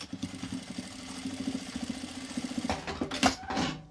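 A sewing machine stitches a fabric Bible cover, a close, fast, even mechanical chatter that stops near the end, followed by a few handling clicks and rustles.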